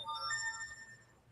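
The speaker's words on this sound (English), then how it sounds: "That was my phone, by the way." A phone's ringtone plays alone and fairly quietly, a short melodic run of bright electronic tones with no voices over it.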